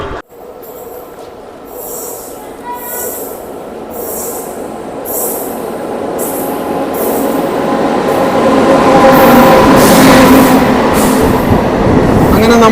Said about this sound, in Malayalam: അങ്ങനെ നമ്മുടെ വണ്ടി ഇതാ വന്നിരിക്കുകയാണ്